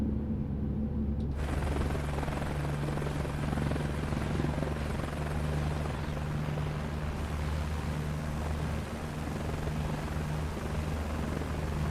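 A helicopter in a flight game career mode runs with a steady loud rotor and turbine drone throughout, alone without talk.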